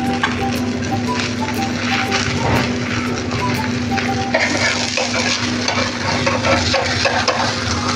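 Mixed-flour thalipith fries in oil poured around it and through a hole in the middle, with sesame seeds scattered on top, giving a steady close sizzle with stirring and scraping noises and a faint, constant hum beneath.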